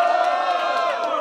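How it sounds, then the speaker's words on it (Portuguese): A crowd at a rap battle cheers and shouts together in a loud, sustained roar of voices and whoops. It stays dense and continuous throughout. "Quem acha que o Fidelix foi mais criativo no terceiro round, faz barulho."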